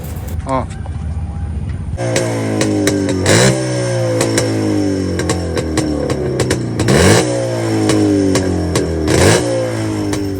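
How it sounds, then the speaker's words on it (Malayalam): A rare Californian Twin two-stroke parallel-twin motorcycle, its exhaust note revving repeatedly: a steady close engine drone with several sharp throttle blips rising and falling, after a quieter start with brief talk. "നമുക്ക് വണ്ടിയുടെ എക്സോസ് നോട്ട് ഒന്ന് കേട്ടാലോ"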